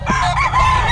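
A Sweater breed gamecock rooster crows once, loud and close, with a strained, wavering call lasting under a second.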